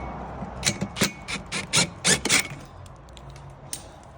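A ratchet wrench loosens 13 millimeter screws on a satellite dish arm, giving a close series of short, uneven rasping and clicking bursts that fade into quiet handling noise.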